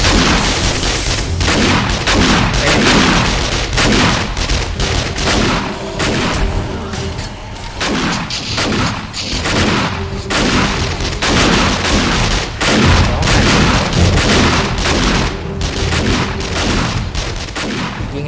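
Explosions and gunfire in the survival game 7 Days to Die, dense and loud booms and blasts hitting one after another for the whole stretch, with barely any pause between them.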